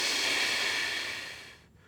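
One long breath drawn through a partly closed mouth, a narrow hissing airflow heard up close that tapers off and stops near the end.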